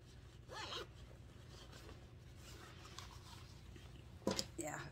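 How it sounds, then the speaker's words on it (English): A zipper on the back pocket of a pair of shorts is pulled, a quick faint rasp early on and a sharper zip near the end over quiet background. "Back pocket. This one is a zipper."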